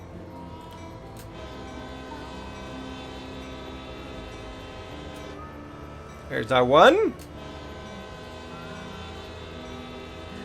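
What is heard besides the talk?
train whistle blasts in a train driving video game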